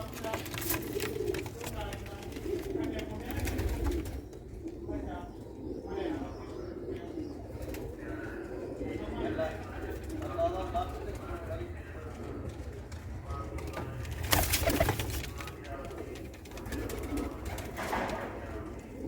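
Sialkoti black pigeons and their young cooing in a loft, soft repeated coos mixed with occasional chirps, close by, with people talking over them throughout.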